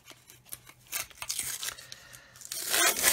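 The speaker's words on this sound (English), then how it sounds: "So we can take the tape off like so." Masking tape peeled off plastic parts of a Revell 1/144 Apollo Saturn V model kit, a run of close, crisp tearing and crinkling strips that build to a louder rip near the end.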